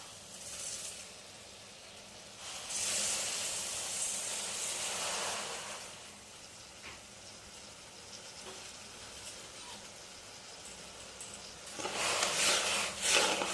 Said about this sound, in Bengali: জলটা আমার গরম হয়ে গেছে আমি এবার চিনিটা ঢেলে দেবো এর মধ্যে